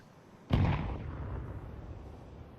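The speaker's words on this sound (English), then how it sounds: "I'm throwing a grenade." Grenade explosion in Counter-Strike played on FACEIT, a single sharp booming blast followed by a rumbling decay over a couple of seconds, with no talk.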